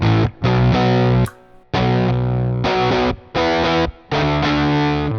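An electric guitar runs through an EHX Germanium overdrive pedal with a woolly, creamy distorted tone. Loud, close chord strums come in bursts with short silent gaps between them, and no one speaks.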